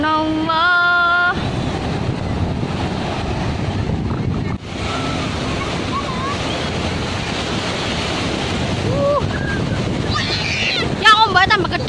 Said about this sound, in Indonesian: Ya ombak tambah gede ini lo.